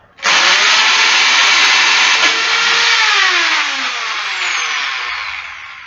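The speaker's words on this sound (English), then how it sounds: "so we just go here and drill here" Power drill boring into wood clamped for a rabbit cage, a loud continuous whine that starts abruptly and holds for several seconds, pitch sagging slightly as the bit bites deeper.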